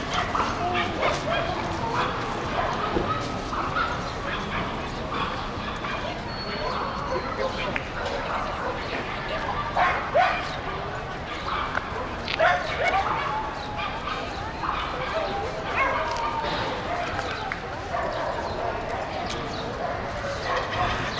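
A small Shiba Inu barks and yips repeatedly in a Mexico City park, sharp calls and whimpers scattered over steady outdoor crowd noise and people talking nearby.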